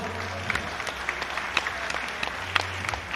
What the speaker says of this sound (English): Please give these two fighters another round of applause.